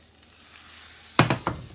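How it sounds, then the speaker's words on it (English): Butter in a stainless steel pan, off the heat, gives a faint quiet hiss and then a sudden short sizzling burst with a second brief crackle close by. "It should be sizzling, but shouldn't be so much that it's burning the butter"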